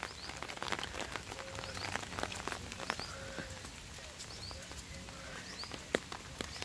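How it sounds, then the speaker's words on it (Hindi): Rain falls at the Lohagarh Fort resort in Jaipur, a constant soft patter broken by scattered sharper drips and taps, with no talking. "अभी तो जयपुर में आज बारिश हो रही है"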